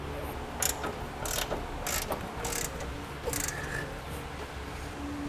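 A ratchet turning a 12mm socket to remove a nut while a hitch is fitted to a 2008 Infiniti EX35, heard as several short bursts of clicking pawl strokes, close by with no talking.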